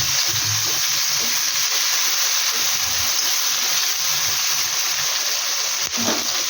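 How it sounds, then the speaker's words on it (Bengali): Loitta fish (Bombay duck) frying in a pan with onion, tomato and chili, giving a loud, steady sizzle and crackle that runs unbroken throughout, close by with no talk. "এবার এখানে লোটে মাছটা বসিয়ে দিচ্ছি, পেঁয়াজ টমেটো লঙ্কা একসাথে ভাজতে দিয়ে দিলাম।"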